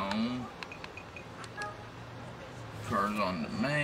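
Phone dialing tones in the video game Watch Dogs 2, a few short beeps near the start under game sounds, followed by speech later in the clip.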